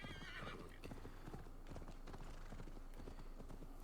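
A horse in Assassin's Creed Valhalla clip-clops steadily through the whole stretch, with a whinny rising near the start over a constant low game rumble.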